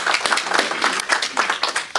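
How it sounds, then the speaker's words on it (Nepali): At the annual convention of the Nepal America Journalists Association, the crowd claps for founding president Girish Pokharel, a brisk run of fairly close, uneven handclaps pulsing through two seconds. "गिरीशजीलाई ताली।"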